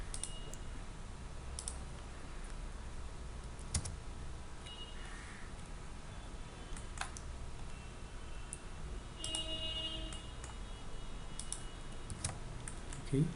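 Someone types the AutoCAD mirror command on a computer keyboard, with scattered soft key taps and clicks spread unevenly over a quiet room hum.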